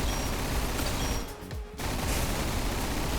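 Continuous rapid fire from a fan-designed weapon in a video game, a dense, loud, unbroken roar that briefly drops out near the middle before resuming at full strength.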